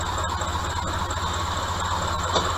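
A Toyota 2NZ-FE petrol engine idles with the air conditioning on, a steady low hum with a faint whine and light ticking, fairly quiet and unbroken.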